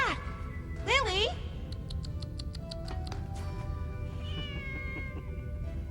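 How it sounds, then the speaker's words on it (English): A cat meows several times in a movie scene, rising and falling cries near the start over a steady background hum, followed by faint ticking and softer tones. "That goddamn cat is nuts!"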